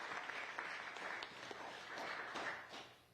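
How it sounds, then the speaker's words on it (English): Applause from attendees at a gifting gathering ceremony in Florida, a faint, distant round of clapping that stays fairly even and then fades away near the end. "let's do another round of applause for Tom."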